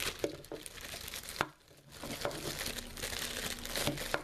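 A plastic Ziploc bag crinkles and rustles close up, faint, as it is handled and filled with a small Altoid-tin first aid kit. The crackling comes in uneven bursts with a brief pause partway through.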